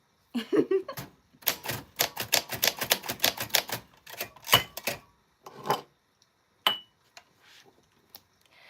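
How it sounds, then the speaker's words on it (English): A vintage portable travel typewriter clacks in quick bursts of keystrokes, then slows to a few isolated strikes with pauses between, crisp and close. "this is a traveling typewriter"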